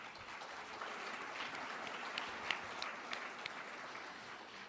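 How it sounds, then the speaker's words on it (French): Sustained audience applause at a French-language health conference, steady dense clapping throughout with a few sharper individual claps standing out, heard from within the hall. "On les applaudit encore une fois."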